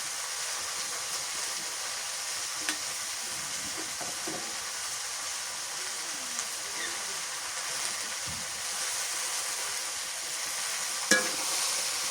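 Turmeric powder and garlic paste sizzling in a hot pan, a steady bright hiss running throughout, with occasional faint scrapes and light clicks as the mixture is stirred.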